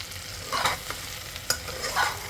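Onion and other masale bhaat ingredients sauté in a pan, with spoon scrapes and a few knocks over a continuous close frying sizzle, and no voices.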